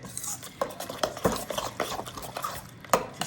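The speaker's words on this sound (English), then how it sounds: "while I cook the tomatoes in the same pan" Tomatoes cook in a pan for crab noodle soup while a utensil stirs and scrapes, giving repeated clinks and scrapes against the metal over a faint sizzle, close and alone.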